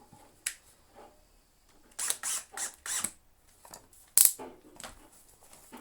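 Small metallic clicks and ratcheting taps from a screwdriver working a screw loose on the casing of an Electrolux Automatic 345 vacuum cleaner, close up, coming in short irregular bursts with a sharper click near the end.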